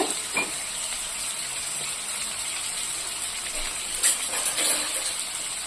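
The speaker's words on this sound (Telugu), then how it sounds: "ఈ ఆనియన్స్ మంచి ఫ్రై అయ్యే వరకు ఉంచాలండి" Onions frying steadily in a pan for a Telugu puha recipe, a continuous close sizzle with a few brighter crackles and stirring scrapes near the end, no voices.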